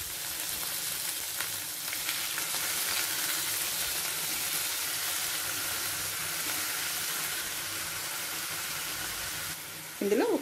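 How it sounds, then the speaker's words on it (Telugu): Sliced onion sizzles steadily in hot oil in a pan while a plantain stir-fry is being cooked, a continuous close hiss that runs the whole time with a brief clatter near the end. "1 నిమిషం ఈ ఉల్లిపాయని ఫ్రై చేసుకుంటే సరిపోతుంది."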